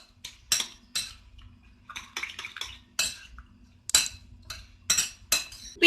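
Roasted potatoes stirred into an egg mixture in a bowl, giving a run of clinks and scrapes of a utensil against the bowl in irregular bursts, close and fairly quiet, with no voices.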